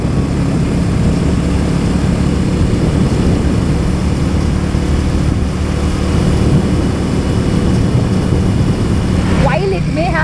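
A Harley motorcycle with an almost 450cc engine cruises at highway speed, its steady engine drone blended with loud rushing wind noise, while a rider talks over it.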